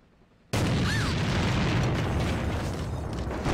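A grenade detonates in a first-person shooter video game as a sudden loud boom, followed by a sustained roaring, rumbling blast that stays dense and heavy for several seconds.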